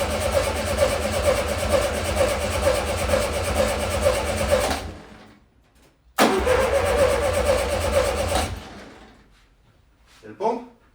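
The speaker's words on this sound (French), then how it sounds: "si ça passe pas de là à là avec quelques coups de démarreur" VW Beetle engine turned over by its starter in two long cranking bursts, a loud rapid rhythmic churn each lasting several seconds with a brief pause between, followed by a short voice.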